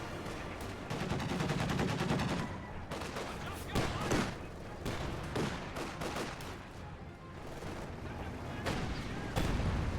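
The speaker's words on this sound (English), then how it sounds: "MG42 firing away, suppresses down the Grenadier" An MG42 machine gun in a Company of Heroes 2 match fires rapid rattling bursts among other gunfire and battle explosions, giving a dense, continuous crackle of shots throughout, with a commentator's voice low underneath.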